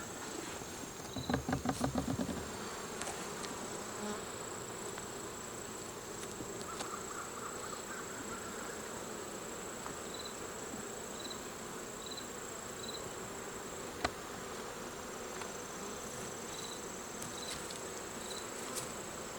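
Honey bees hum steadily around an open hive during a beekeeping inspection, a continuous low buzz lasting throughout with a brief louder rustle near the start, and no talk.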